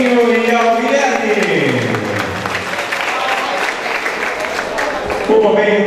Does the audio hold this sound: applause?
yes